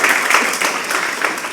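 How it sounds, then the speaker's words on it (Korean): Korean church congregation at an evening service applauding a mission choir, a short burst of hearty clapping from many hands filling the sanctuary, close and loud. "우리 은혜 선교석회에 박수 한번 드리겠습니다."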